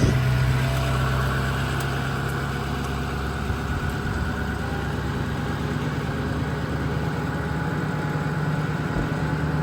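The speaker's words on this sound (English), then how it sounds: "Motor sounds great." A Ford F550 bucket truck with its PTO engaged idles steadily, a continuous low diesel rumble close by with no break and no talking.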